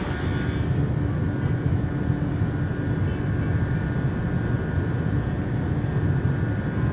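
A PMDG Boeing 737-800 takes off in Microsoft Flight Simulator, a steady loud jet engine roar with a constant hum throughout and no speech.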